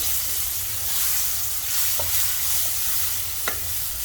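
Steady, loud sizzling of frying spices in a pan as chopped tomato goes in for Sindhi methi fish curry, with a couple of faint utensil clicks over the constant hiss.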